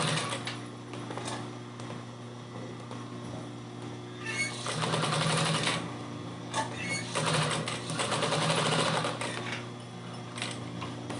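A sewing machine stitches a fabric necessaire case in two busy bursts of whirring, the second longer, with a low steady hum and quieter pauses between them.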